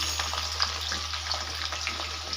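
Capsicum, onion and slit green chilies frying in oil left after soybean chunks were fried, a steady close sizzle with faint crackles and stirring scrapes throughout, no voices.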